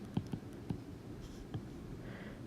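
Pen or marker strokes writing out the answer to an absolute value equation, a few short scratchy taps and scrapes spread over a couple of seconds, faint and close against quiet room tone.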